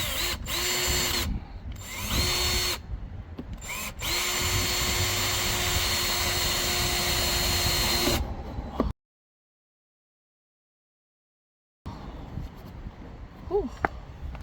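A power drill bores holes into a C6 Chevy Corvette, running in several loud sustained bursts with brief pauses, then a few seconds of silence before quieter handling sounds and faint clicks.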